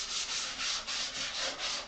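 A cedar bench is being sanded smooth by hand in a woodworking shop, a steady rhythmic rubbing hiss of strokes repeating about every quarter second, close and continuous with no speech.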